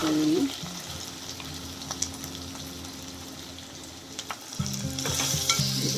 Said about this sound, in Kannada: ಸ್ವಲ್ಪ ಫ್ರೈ ಆಗಲಿ ಇವಾಗ